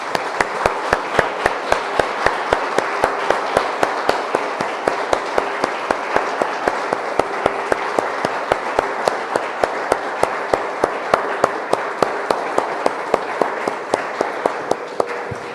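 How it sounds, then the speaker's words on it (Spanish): A church congregation claps together in praise of the Lord, striking in a steady, even rhythm of about three claps per second that runs unbroken for the whole stretch, with a faint sustained tone beneath. "Damos un aplauso, hermanos, al Señor."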